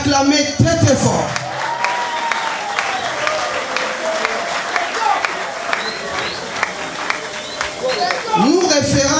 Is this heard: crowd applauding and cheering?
yes